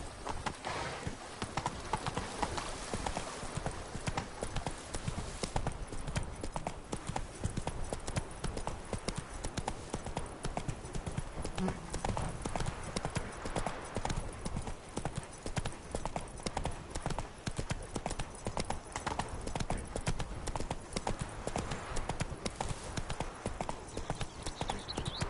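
Hooves of Roach, a horse in a video game, clip-clop in a rapid continuous rhythm, steady and fairly faint throughout.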